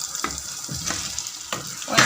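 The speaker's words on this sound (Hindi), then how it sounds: "अब हम इसमें फ्राई की हुई अरबियाँ डाल देंगे" Fried taro pieces are tipped into frying masala in a pan and stirred, giving a bubbling sizzle broken by a few distinct scraping strokes and clatters.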